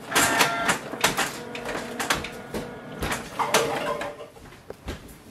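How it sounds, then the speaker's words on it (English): An HP OfficeJet Pro 9015e printer scans an alignment page, giving a run of close mechanical clicks, clacks and short whirring sweeps at an irregular rhythm, with no talk over it. "Place it facing downwards and click on the scan icon on the printer."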